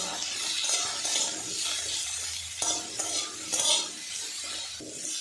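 Papaya pieces stirred and fried in oil in a pan, a continuous close sizzle with scraping spatula strokes and occasional metallic clinks, steady and alone without talk.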